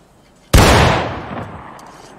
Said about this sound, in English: There's a lot of good shooting going on here.